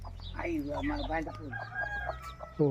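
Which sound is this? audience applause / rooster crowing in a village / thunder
rooster crowing in a village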